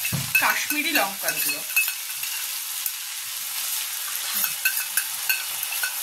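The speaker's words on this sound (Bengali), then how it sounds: "গ্যাস কমিয়ে ভালো করে এটাকে ভেজে নেব।" Spices, ginger and cauliflower frying in butter over lowered gas heat for a Bengali milk-cauliflower dish, a steady soft sizzle with scraping stirs near the start; a voice speaks briefly at the opening.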